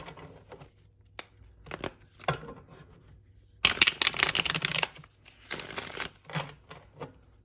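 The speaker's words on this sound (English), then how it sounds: "we'll do one last shuffle" Tarot cards are shuffled in several crisp bursts of riffling and sliding, close up, with short quiet pauses between and one longer, louder shuffle in the middle.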